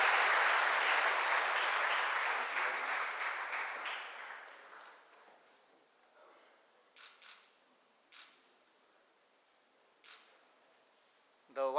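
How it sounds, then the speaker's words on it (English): Applause from a seminar audience at a health and wealth session fades out over several seconds, leaving quiet room tone broken by a few sharp camera shutter clicks. "let's have a big round of applause"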